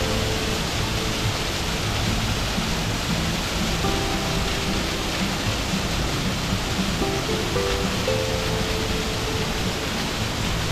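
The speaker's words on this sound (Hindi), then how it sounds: "इस छोटी सी खूबसूरत आबशार ने अपनी कुदरती मौसीकी से हमारा इस्तकबाल किया।" Small waterfall along a mountain lake trek, a continuous broadband rush of falling water, steady and fairly close, with no voices over it.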